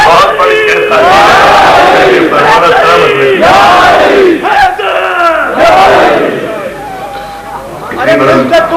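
A loud crowd at a religious gathering in Model Town, Lahore, chants slogans in unison, with repeated surging shouted calls broken by short pauses.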